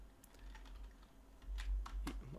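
Fingers type a name on a computer keyboard, soft, close key clicks in a short irregular burst, faint and alone.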